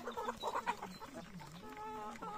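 Five-month-old upgraded native Darag chickens cluck and murmur nearby on a rural farm, with overlapping soft calls and a few sharper cackles. The sound stays fairly faint and continuous.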